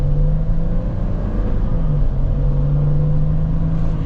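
A 2023 Mercedes Sprinter 4x4 conversion van accelerating, heard from inside the cabin as a steady low engine drone and road rumble with a slowly rising whine.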